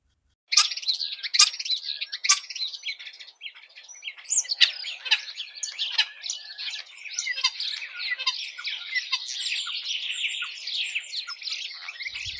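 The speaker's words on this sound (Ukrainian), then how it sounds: "славиться кращим співаком люди звуть його шпаком" A common starling sings a long, busy run of whistles, chirps, clicks and squawky rasps in rapid varied bursts, fairly close and clear with no voices.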